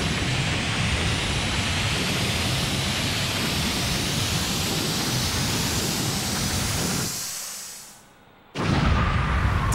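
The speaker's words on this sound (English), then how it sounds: "I like the afterburner sound." In the Star Fox 64 video game, an Arwing afterburner gives a loud, sustained rushing roar that rises in pitch, drops away briefly near the end, and then surges back, with no talk over it.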